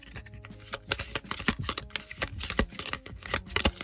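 A deck of tarot cards being shuffled by hand, with a quick run of crisp riffling snaps and flutters in bursts, close and moderately quiet, with no talk.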